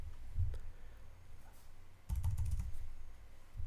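Fingers tapping on a computer keyboard while entering a terminal command, two short clusters of soft clicks close up.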